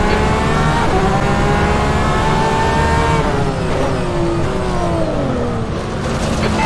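GTE-class race car engines roar loudly and continuously during a night race at Val de Vienne in the rFactor 2 sim, rising and falling in pitch as cars accelerate and shift close together.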